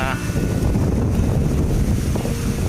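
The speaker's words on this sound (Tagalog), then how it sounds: "kahit malakas yung hangin" Strong wind gusting over Manila Bay, a loud continuous rumble and buffeting roar against the microphone, with faint water and boat sounds beneath it.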